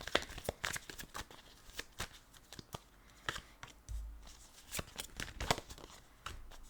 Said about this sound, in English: I'm just going to lay out the cards